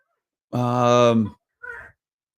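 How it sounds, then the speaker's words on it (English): A pet bird lets out one long, tonal call, then a short harsher chirp after a brief pause. Both are close and clear against a quiet room. "Yes, you're a pretty bird. I heard you."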